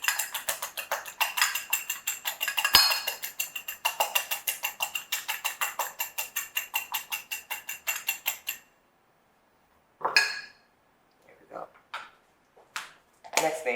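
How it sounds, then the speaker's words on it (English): Eggs with seasoning being whisked in a bowl: rapid, regular clicking taps of a whisk against the bowl for about eight seconds, close and crisp, then silence broken by a few scattered clinks. "this is just whipping the eggs"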